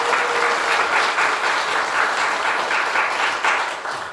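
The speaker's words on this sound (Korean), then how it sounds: "할 수 있도록 박수 한번 보내주세요." An audience claps steadily for a newly formed volunteer group at a community gathering, a dense, fairly loud wash of applause that fades slightly toward the end.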